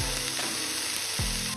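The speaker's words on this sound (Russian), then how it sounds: "мы с вами прижарим на сковороде луковицу и небольшое количество моркови" Onion and a small amount of carrot sizzle steadily in a frying pan, a dense continuous crackle with no talking, near and fairly loud throughout.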